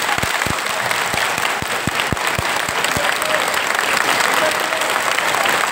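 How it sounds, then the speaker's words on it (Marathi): Women in the audience at a Marathi kirtan clap in a loud, continuous wash, with a series of sharp low thumps punctuating the first half. "माता वर्ग टाळी."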